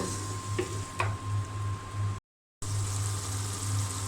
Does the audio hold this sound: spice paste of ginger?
yes